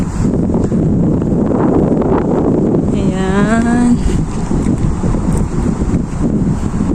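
Loud, steady wind buffets the microphone outdoors in Israel throughout, with a brief spoken word and a passing tonal whine partway through.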